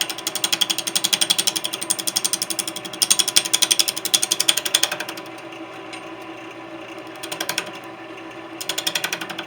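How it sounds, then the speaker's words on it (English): A large bowl gouge cuts a big, heavy wooden urn spinning on a lathe, giving a loud, steady rhythmic chatter that pauses briefly midway and then resumes, with no talking. "I'm using rather large bowl gouge."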